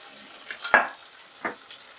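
Potatoes tossed with spices, kasuri methi and garam masala, in a hot pan: a few separate scraping stir strokes over a soft, close sizzle, with no talk.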